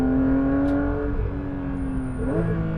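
Porsche 992 GT3 engine droning steadily on Italian mountain roads, a strong low tone holding even then dipping and rising again as the revs shift, loud and close throughout.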